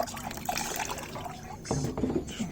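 Brake fluid drains from a car brake caliper with a soft, steady liquid trickle and drip, fairly quiet, alongside faint background chatter from an audiobook.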